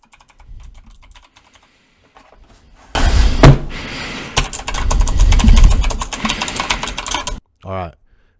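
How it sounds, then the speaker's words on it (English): Rapid, loud keyboard typing clatters continuously for a few seconds after a quiet start, with a brief short voice sound at the end. "we're going to be testing how loud my keyboard sound when I'm streaming."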